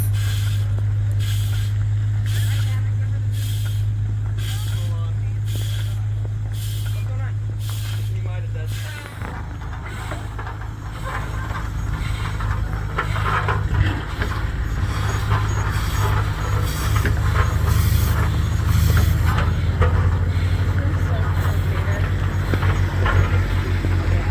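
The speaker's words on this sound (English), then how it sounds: "A steam tractor uses steam that comes from fire to make it move." A steam tractor runs at a tulip festival exhibit, giving a steady low mechanical rumble with rhythmic chuffing puffs early on, then a louder hissing, rushing stretch as it keeps working, with a voice talking over it.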